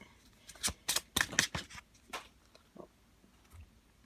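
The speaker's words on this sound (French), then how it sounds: "Je pose mon paquet, on va retourner le jeu" A tarot deck set down on a table and flipped over, giving a quick cluster of close, crisp card slaps and shuffling rustles followed by a few softer taps.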